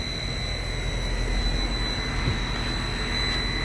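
DIY solar-assisted three-phase A/C unit running on fan only, a steady broadband whoosh with a constant high whine, continuous and unchanging at close range.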